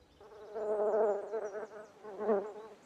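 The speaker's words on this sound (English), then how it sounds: "They're carrying out an elaborate experiment to study how the travelling salesman problem is tackled by the bumblebee." A bumblebee buzzes up close, its droning hum swelling and fading in two loud passes as it moves around during a foraging experiment, with no voices present.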